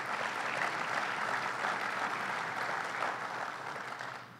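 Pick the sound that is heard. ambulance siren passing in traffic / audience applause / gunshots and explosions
audience applause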